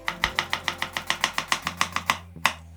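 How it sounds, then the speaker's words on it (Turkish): A knife chops onions rapidly on a cutting board, about a dozen quick, even strikes in a steady rhythm, close and crisp, ending with one final chop. "Bunları da sıçan dişi şekilde doğruyoruz."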